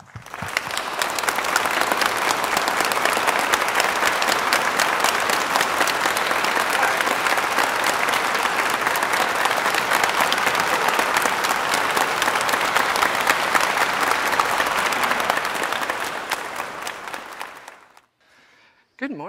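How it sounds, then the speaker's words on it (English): A lecture-hall audience at Harvard's Sanders Theater applauds steadily and loudly for about seventeen seconds to welcome a lecturer, dense clapping from a large crowd, then fades out abruptly into near silence. "I'd like to give a big round of applause to welcome Alissa Knight"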